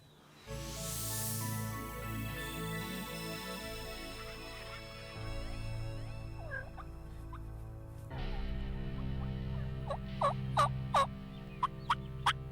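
Wild turkey gobbling during a spring hunt, several sharp rattling gobbles at a distance, the last few louder and clustered together in a quick series over a steady background of other birdsong.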